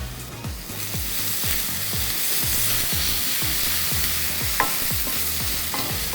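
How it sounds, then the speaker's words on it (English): Ginger garlic paste sizzles loudly in a hot pan while being cooked for mooli kofte, with a steady fry hiss and regular rhythmic scraping strokes of a spoon about every half second, close up and without talk. "Next, we have our ginger garlic paste going in here."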